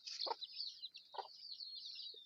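Newly hatched chicks peep faintly in a continuous high-pitched chatter, with a few softer lower chirps breaking in.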